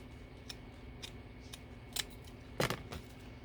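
Scissors trim paper in a few separate close snips, each a short crisp cut spaced about half a second apart, ending in a louder double snip, quiet overall with no talking.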